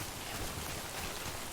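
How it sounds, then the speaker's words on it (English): Steady timefall rain in the video game Death Stranding, a dense continuous patter with no distinct drops, even and moderately loud throughout. "and still get out of this rain"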